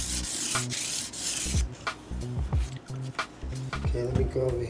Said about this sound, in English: This again is just more 1000 grit sandpaper.